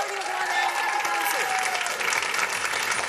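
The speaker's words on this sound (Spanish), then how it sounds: "un aplauso al panel de esta noche" An audience applauds the evening's panel on a Venezuelan television talk show, the clapping dense and steady for the whole stretch, with a faint tonal sound like music or a voice running underneath.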